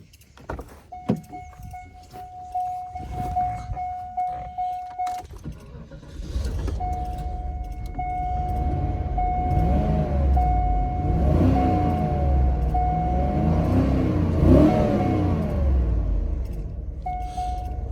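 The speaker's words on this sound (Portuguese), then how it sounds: "Esse motor V8, 32 válvulas, né? Já tem uma pegada de motor V8 moderno." A Chevrolet Suburban V8 32-valve engine fires up after a steady warning chime, settling into a deep, loud idle with several rising and falling revs, close by, with no talk.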